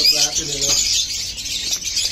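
Long-feathered birds kept for sale chirp and tweet continuously in a dense high chorus, near and fairly loud, with a person talking briefly at the start.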